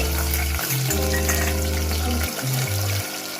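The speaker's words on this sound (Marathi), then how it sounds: "फोडणीला देऊ आपण. आपण इथे टोमॅटो परतून घेऊ." Tomatoes sauté in hot tempering oil with a constant crackling sizzle, while low humming tones come and go underneath.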